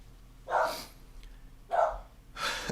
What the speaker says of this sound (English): That's just our dog, sorry.